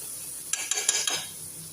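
Green chili, onion and garlic frying in hot oil, a steady sizzle with a burst of sharper crackling and spatter partway through as they hit the pan, then settling back to a low hiss.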